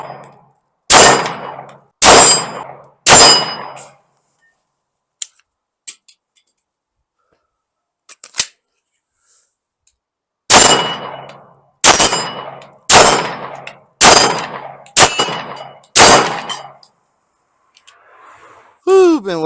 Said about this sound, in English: Let's put a few rounds through this thing, have a little fun. We're going to go after some steel.